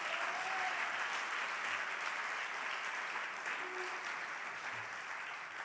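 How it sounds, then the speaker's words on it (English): An audience at a 2019 gala breaks into steady, sustained applause that holds evenly throughout and eases slightly toward the end, with no voices over it. "Let's give her another round of applause."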